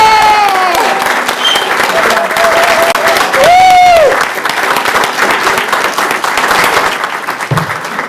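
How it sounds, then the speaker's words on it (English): A crowd at a school district board meeting cheers and applauds standing honorees, loud clapping mixed with whoops and shouted voices, including a sustained high cheer, tapering slightly toward the end. "can we do like the football games and like cheer for these people"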